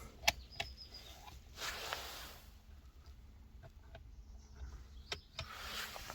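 A quiet electric motor whirs briefly as a Dacia Logan's mirrors fold, with a few clicks and soft mechanical sounds in a still interior.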